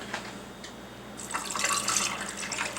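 Water pours into a glass, a soft splashing fill that starts faint and grows fuller and brighter over its last half, steady and close with no talk.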